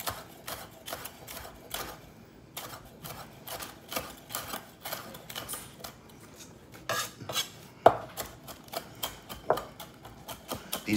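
A knife chops jalapeno into a fine mince for jalapeno popper Juicy Lucy sliders, with rapid, uneven taps on a cutting board that speed up and slow down without a break.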